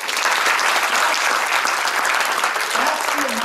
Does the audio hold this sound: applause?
yes